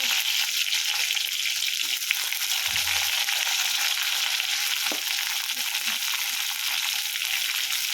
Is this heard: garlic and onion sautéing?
yes